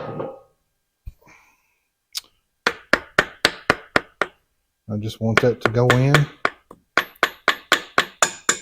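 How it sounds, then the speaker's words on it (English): Repeated taps of a soft blow hammer driving a part into a Harley Evolution engine during a big bore kit and cam upgrade, sharp evenly spaced knocks in bursts, with a brief spoken remark and a short whirring sound between them. "then I'll take a soft blow hammer."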